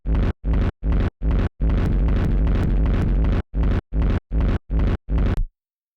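Processed techno kick drum with reverb, thumping in a rhythmic run of punchy hits, then a sustained rumbling stretch, then more evenly spaced kicks before an abrupt cutoff into silence, loud and alone.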